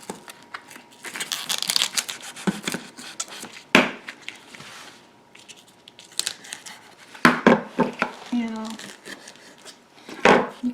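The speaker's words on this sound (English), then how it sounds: "You can take your knife and go along the stem line like this." A knife slices along the stem lines of collard green leaves, giving irregular crisp cuts and leafy rustles with scattered sharp snaps, close and moderately loud.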